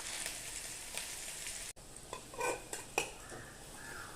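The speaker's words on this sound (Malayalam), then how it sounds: "അപ്പോൾ ഇഞ്ചി ചെറുതായിട്ട് കണ്ടോ ബ്രൗൺ കളർ വന്നിട്ടുണ്ട് ഈ വറവ് ചേർത്ത് കൊടുക്കാം" Hot tempering of browned ginger sizzles for a Kerala Onam dish, a steady hiss that drops out briefly before resuming with a few metallic clinks and scrapes of a pan and spoon.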